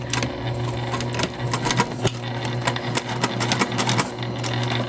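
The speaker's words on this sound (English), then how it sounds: "we're just gonna baste those two pieces together" A sewing machine bastes two fabric pieces of a bum bag together, a close, steady mechanical whir with rapid rhythmic needle clatter running throughout, without speech.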